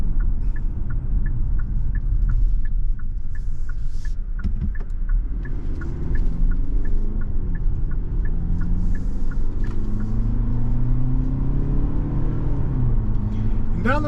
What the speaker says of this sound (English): This naturally aspirated inline 4 with the 8-speed, doing a good job.